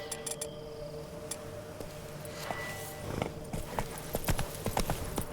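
Roach, the horse in The Witcher 3: Wild Hunt's Blood and Wine expansion, walks along with crisp, steady hoof clip-clops, close and rhythmic over light ambient game sounds.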